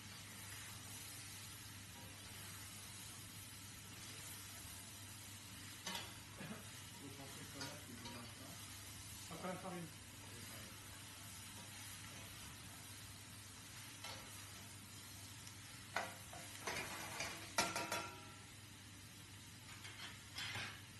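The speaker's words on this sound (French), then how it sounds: "ajoutez votre garniture aromatique avec les morceaux et faire suer" Aromatic vegetables and beef pieces sweating in a pan for a Provençal beef sauté, a low steady sizzle with occasional stirring scrapes and clinks, fairly quiet and close, no speech over it.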